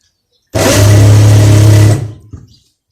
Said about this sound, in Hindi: ये सिलाई जो है यहाँ से स्टार्ट करके सेम वैसे ही सिलाई हम इधर लगाएंगे